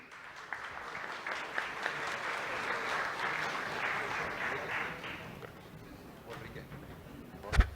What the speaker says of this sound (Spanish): Démosle la bienvenida, por favor, a Gorka con un fuerte aplauso